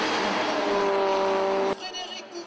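VW Fun Cup race cars roar together at the start of a race at the Mettet circuit, a loud sustained engine drone with a steady whine that cuts off abruptly, leaving quieter distant engine noise.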